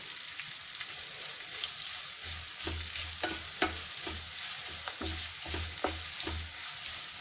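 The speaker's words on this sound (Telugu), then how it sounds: "అంటే పచ్చిమిరపకాయ, చిన్నుల్లిపాయ పచ్చివాసన పోయే వరకు మనం వేయించుకుందాం" Green chili and shallot paste frying in oil for a potato-onion curry, a soft continuous sizzle with regular low scraping strokes of a spoon against the pan, no voices.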